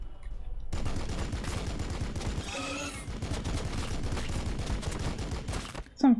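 Sustained gunfire from a volley of shots in the Warhammer 40,000: Battlesector strategy game, dense and steady for about five seconds, with a brief rising tonal sweep partway through and a sharp burst at the end.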